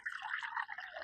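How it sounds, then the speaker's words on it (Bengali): Water is poured during a chili-eating challenge game, making a brief, faint, gurgling trickle whose pitch shifts as it flows. "এই জলটা আমি দিয়ে দিচ্ছি"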